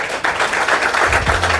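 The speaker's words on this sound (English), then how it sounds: "Come on, clap it up." Many hands clap together in a live studio audience, a brisk, steady patter of applause that stays fairly close and loud for the whole moment.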